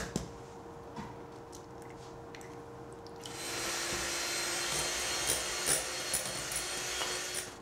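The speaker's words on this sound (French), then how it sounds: "Je vais maintenant monter les 2 blancs d'œufs en neige." An electric mixer whips two egg whites into stiff peaks for waffle batter, starting faintly and then rising into a steady, loud buzzing whir that carries on without a break.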